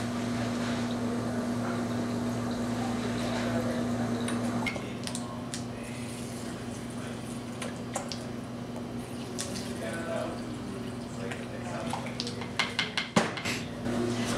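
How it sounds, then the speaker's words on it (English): Tofu marinade with lime juice stirred in a bowl: soft wet squishing and clinks of a utensil against the dish, with a steady hum in the background and a person talking over it. "Just stir it up."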